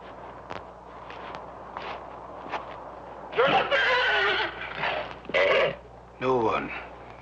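Horse in a western film scene whinnies and neighs in several loud bursts, preceded by soft hoof clops and shuffling under a quiet background, with voices speaking nearby.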